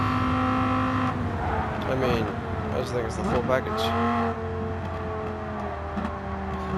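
Dodge Viper GTS engine in a racing video game, revving and shifting through gears with rising and falling tones under someone talking, fairly loud and close.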